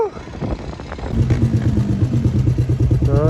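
A dirt bike engine revs and chugs while riding at a sand pit, a close rhythmic mid-pitched throb that steadies into a pulsing drone, with voices calling out briefly at the start and end.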